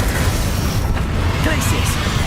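A Confringo blasting-curse explosion in Hogwarts Legacy gives a loud, dense burst of noise lasting about two seconds, with a player's voice mixed in.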